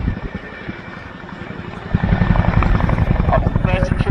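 A hovering Chinook helicopter at an air show gives a loud, steady rotor thump that swells after a couple of seconds, with a busy crowd-and-engine rumble beneath it.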